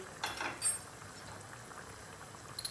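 Tomato pasta sauce boiling in a pot, a faint, close bubbling with a few soft pops early on and a quieter simmer after, with no talk.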